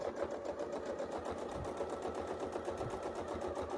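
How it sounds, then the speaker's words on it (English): A sewing machine stitches steadily around an apple core quilt template, its needle running in a fast, even rhythmic chatter at close range with no voices. "So right now we are going to sew back because we're going to sew all the way around."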